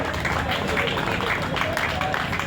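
Audience applause at a school year closing ceremony with teachers' choir, theatre and poems, a steady dense patter of clapping filling the whole stretch, with crowd noise mixed in.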